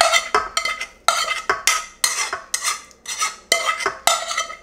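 Meatloaf mixture with softened vegetables and garlic is stirred in a bowl in a steady rhythm of about eight wet, scraping strokes, loud and close with no talk.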